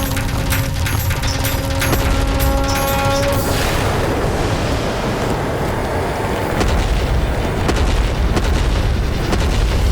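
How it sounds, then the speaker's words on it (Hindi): A sound-effect explosion booms out in a Hindi mythological TV serial, with a deep roar and crackle filling the scene, then settling into a sustained rumbling wash of debris and noise. "विस्फोट"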